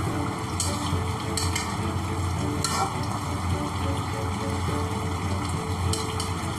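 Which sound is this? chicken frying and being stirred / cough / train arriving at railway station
chicken frying and being stirred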